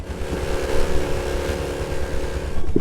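A steady, droning car engine hum in Grand Theft Auto V with a low, even tone holds at a constant level throughout, as if idling or cruising.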